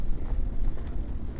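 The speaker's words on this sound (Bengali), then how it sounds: "সারা রাতও বাতাস বইছে, হিমেল হাওয়া।" Cold winter wind gusting steadily at a roadside crossing on a sunless morning, a continuous low rumbling buffet on the microphone with no voices.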